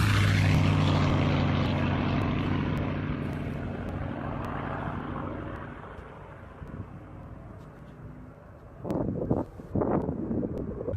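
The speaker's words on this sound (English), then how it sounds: "This plane creating a cool smoke effect after flying by." A propeller airplane flies by close and loud, its buzzing engine tone sliding down and fading away, followed by wind gusts buffeting the microphone.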